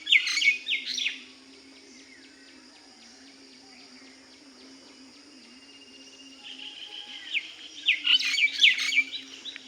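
Small birds chirping in the early morning, with bursts of close twittering at the start and again near the end, a quieter stretch of distant calls and a faint steady hum between them.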